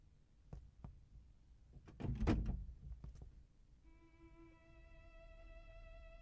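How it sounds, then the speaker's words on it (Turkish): A door swings open with a few faint clicks and a louder wooden thunk and creak, followed by a soft sustained musical tone underneath. "Bu kapı niye açılır ki boyuna?"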